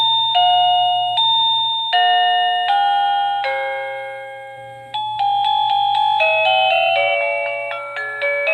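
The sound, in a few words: Toplus wireless doorbell chime, different ring sound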